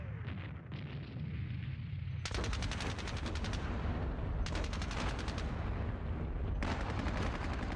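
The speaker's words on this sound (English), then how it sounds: "Might as well fire at them." In the wargame Squad Battles Red Victory at Ponyri, gunfire at enemy squads rumbles as dense bursts of rapid shots over a continuous low battle roar, with three loud volleys breaking in one after another.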